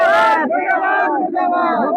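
A crowd in Katihar, Bihar loudly chants protest slogans against an MP, rhythmic unison shouts repeating close by.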